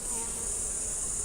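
Bees buzz in a dense, continuous swarm hum during a hive inspection, close and steady throughout the brief moment.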